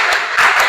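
A class of students clapping together in rhythm during a counting clap routine, the claps dense and fast, blending into a steady, loud burst of hand claps.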